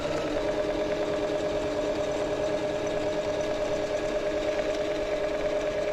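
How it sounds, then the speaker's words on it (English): A sewing machine runs steadily and fast while stitching a quilt, a close, continuous humming whir without pauses. "I'm stitching a little bit faster because I find that sometimes my stitches get really long"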